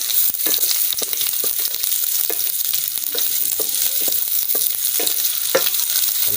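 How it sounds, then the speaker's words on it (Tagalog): Onion and ginger sautéing in a pan for pork belly adobo in coconut milk, a continuous loud sizzle broken by repeated clicks and scrapes of stirring, no voices. "Lagay na natin yung sibuyas at saka yung ating luya."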